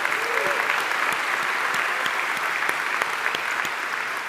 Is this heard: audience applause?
yes